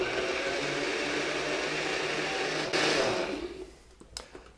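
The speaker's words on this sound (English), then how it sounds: "now I'm going to process the second batch" A food processor whirs steadily through a batch of onions and chestnuts for chestnut soup, a loud close motor drone that surges briefly, then winds down into scattered clunks and rattles.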